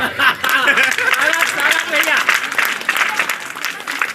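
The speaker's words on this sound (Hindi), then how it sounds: "अब आप लोग जितना भी बचा होगा उतना ताली मेरे लिए बजाओ।" Audience clapping at a Hindi kavi sammelan poetry gathering, a dense sustained burst of applause with scattered chuckles and crowd voices mixed in.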